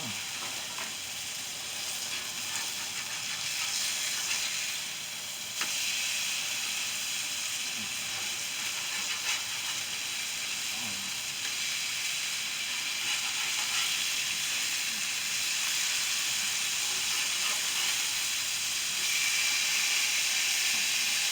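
Salmon fillets and broccoli cook on a Blackstone flat-top griddle with a continuous broad, hissing sizzle that stays even and fairly loud throughout, with a few faint clicks of a utensil.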